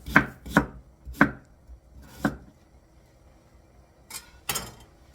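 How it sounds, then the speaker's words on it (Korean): A knife slices radish into thin flat squares on a cutting board: a few sharp, close chops spaced irregularly, then a quiet pause and two more quick cuts near the end, with no talking. "나박나박하게 썰어 줄 거예요."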